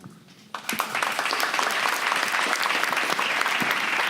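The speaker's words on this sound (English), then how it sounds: "Let's give all the panelists a really warm round of applause." Applause from a city-affairs debate audience bursts in after a quiet moment and swells into a dense, sustained round of many clapping hands, loud and steady to the end.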